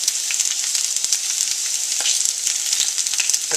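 Potatoes sauteing face down in a skillet with garlic and rosemary, a loud, steady hiss of frying oil with frequent small crackles, close and continuous.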